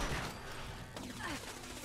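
Turret gunfire in Fallout 76 rattles through most of the stretch as a dense, steady burst of shots, with a brief sharper flurry about midway, loud and continuous.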